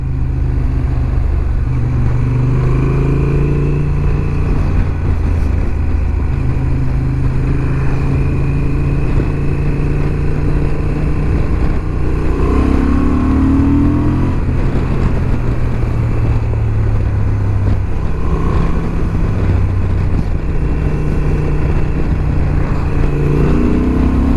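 A motorcycle engine, either a BMW F900R or a Yamaha 600XT, drones on a mountain departmental road, with rising and falling pitch sweeps as it accelerates repeatedly, steady and close with wind rush.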